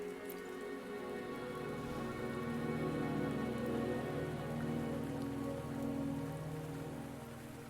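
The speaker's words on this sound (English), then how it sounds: "the rain won't last much longer" Steady rain in the video game Wuthering Waves patters on a surface, a continuous soft hiss with a low droning tone beneath, no voices.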